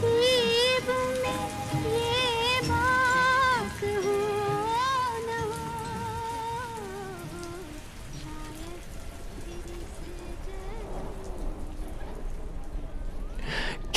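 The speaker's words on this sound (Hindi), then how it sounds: "वैसे तो मुझे बारिश बिल्कुल पसंद नहीं है" Steady rain patters throughout, heard beneath a melodic singing voice that fades out partway through.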